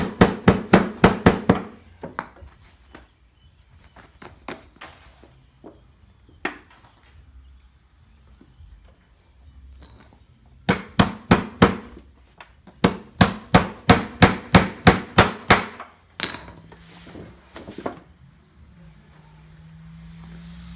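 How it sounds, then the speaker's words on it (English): Two bursts of rapid metal-on-wood hammer blows, close and loud, separated by quieter pauses with a few isolated taps, hammering metal flashing onto a wooden beehive outer cover. "Come back to the middle here and then hammer it down."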